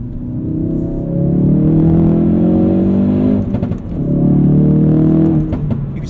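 A modified Ford Performance Focus RS engine drones loud and steady from inside the car during night driving in normal mode, rising in pitch, easing off briefly, then pulling again.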